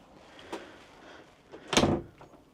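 A partition door between the shower and toilet area of a 2025 Laika Ecovip L3019 campervan is moved, giving a soft knock early on and a louder sliding thud and latch near the end, close by.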